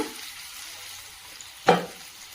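Fish frying in oil in a pan gives a faint, low sizzle throughout, with one sharp crackle or stir about two-thirds of the way through.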